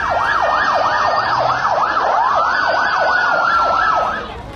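A wailing ambulance siren in Beirut, Lebanon, sweeps rapidly up and down in a steady repeating cycle, loud and close, sounding continuously before fading slightly at the end.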